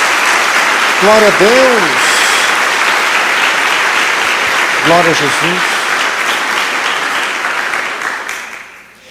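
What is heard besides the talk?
congregation applauding in church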